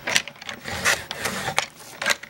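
Paper being cut at an angle for a treat bag tag, with a few quick, close, crisp rasping strokes in an uneven rhythm and no speech.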